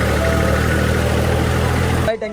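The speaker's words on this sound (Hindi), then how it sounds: "रोहित भाई कभी डीजल नहीं रखता इस ट्रैक्टर में" A diesel tractor engine idles steadily at a fuel station, a loud continuous low rumble with vibration that cuts off near the end.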